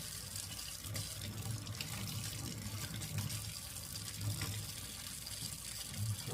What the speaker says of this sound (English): Give that a good rinse.